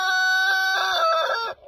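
A Brahma rooster crows once, loud and close, a drawn-out cock-a-doodle-doo lasting over a second before it cuts off.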